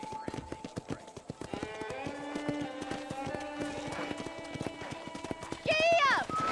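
Horse hooves clip-clop at a steady walking rhythm on a ranch in Red Dead Redemption, with game music tones over the top and a brief loud vocal burst near the end.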